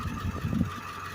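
A 2001 Amtrans International school bus with a 7.3 diesel idles steadily nearby, running on all eight cylinders after a dead injector was replaced, giving a low, even rumble with a faint ticking rhythm.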